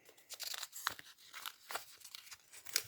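Crinkly plastic rustles and short ripping bursts as a small packet is torn open up close, several quick tears over a few seconds.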